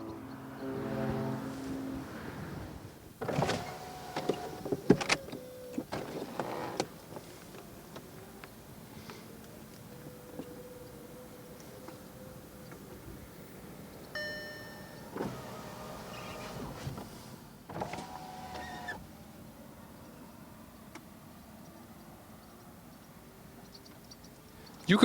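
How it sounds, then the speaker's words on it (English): A Volkswagen Beetle convertible's electric roof mechanism whirs in short motor bursts with clicks and latches, interrupted by pauses, heard up close at a moderate level. "You can open and close the roof up to a speed of 30 kilometers an hour"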